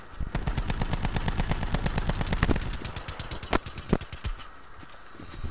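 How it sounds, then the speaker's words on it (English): Rapid automatic gunfire in Call of Duty: Black Ops 4, loud, near bursts of rattling shots running almost continuously, then thinning into a few scattered sharp cracks. "They're getting shot at. I'm getting shot at."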